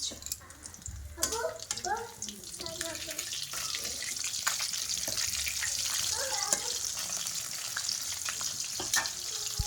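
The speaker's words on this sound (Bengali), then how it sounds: "আর দেখো মাছগুলো ভাজা করছি এটা হলো জেল মাছ" Jel fish sizzle and spit in a hot frying pan in a home kitchen: a steady, close hiss with a few faint clinks, while a voice speaks briefly over it.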